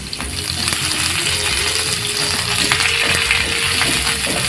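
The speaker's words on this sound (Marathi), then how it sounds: "आपला कांदा आपण चांगले शिजून घेणार आहोत" Chopped onion with green chillies and curry leaves sizzles loudly in a hot pan, a constant crackling fry with occasional stirring clinks and scrapes, close and unbroken.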